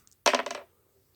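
Two dice tumble across a table during a tabletop game of The Fantasy Trip, a single quick clattering burst of hard rattles that fades within half a second, with no talking.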